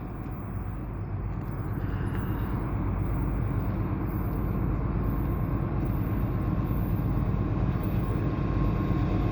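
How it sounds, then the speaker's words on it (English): A westbound CP intermodal freight train passes close by at evening, giving a loud, steady rumble of wheels and cars that grows slightly and holds without a break. "So this is a westbound CP, probably an intermodal."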